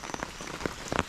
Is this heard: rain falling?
yes